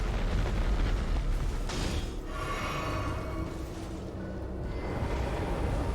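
A heavy explosive boom opens the scene in Elden Ring, followed by rolling, rumbling blasts and a hissing, crackling tail that stays loud and dense throughout, with no talking.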